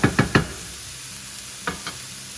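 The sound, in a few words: mushrooms cooking in a pan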